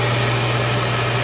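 A built-in vacuum sweep port in the floor of a 2023 No Boundaries 19.1 toy hauler runs with a loud, steady motor whine and a constant rushing roar of suction.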